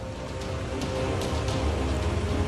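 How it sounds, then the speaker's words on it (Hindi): Heavy monsoon rain falls on flooded roads in North India, making a dense, constant roar of rain and flowing water with no pauses or voices. "देखिए कैसे सड़कें लबालब, सड़कों पर पानी बहता हुआ।"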